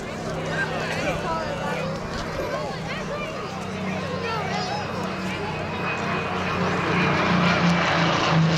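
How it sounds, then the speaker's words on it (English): Supermarine Spitfire engine droning through an airshow flypast, a steady propeller rumble that swells slightly as the aircraft nears, with a commentator talking over it throughout. "because of the superb sound of that Spitfire engine, I won't be talking too much"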